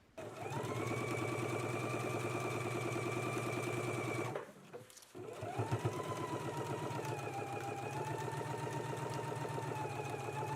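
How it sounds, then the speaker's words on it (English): A home sewing machine stitches the side seam of a McCall's M8449 garment in two steady runs, a close, continuous motor whir with a brief pause in the middle. "Let's go ahead and sew our side seam now."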